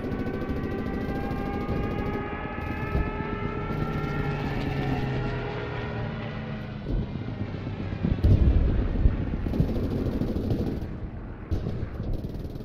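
A droning plane engine in the World War II shooter game Post Scriptum holds steady for several seconds and then fades, with gunfire bursts and a heavy rumbling impact mixed in.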